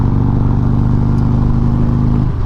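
Harley-Davidson motorcycle with 4.5-inch Cobra Neighbor Hater Gen 2 exhaust, a loud, close, deep rumbling engine with a pulsing lope that drops off near the end.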